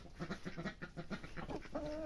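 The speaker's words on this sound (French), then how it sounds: "Là ici il y a les poules. Et les dindes." Farmyard hens and royal turkeys cluck in a steady, overlapping rhythm close by, soft and continuous, with a drawn-out call near the end.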